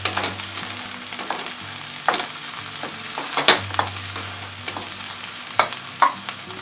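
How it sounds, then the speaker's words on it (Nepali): Ginger-garlic paste fries with onions in a pan for a trout fish curry, a continuous soft sizzle broken by irregular scraping stir strokes and a few sharper clacks of the utensil. "अदुवा लसुनलाई पनि एकछिन भुट्दै पकाउने।"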